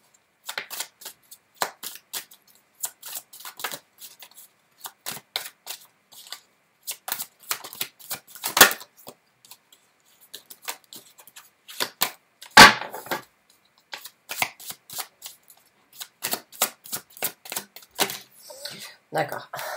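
Tarot cards shuffled and drawn, with dense rapid riffling and sharp card snaps in irregular bursts spread across the span and a couple of louder slaps of cards laid down.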